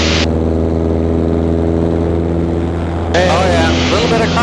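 A light Zenith aircraft engine drones steadily at partial power during a crosswind takeoff, with a voice speaking over the engine toward the end.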